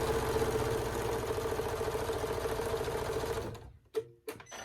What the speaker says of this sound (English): Then you're going to just sew straight down.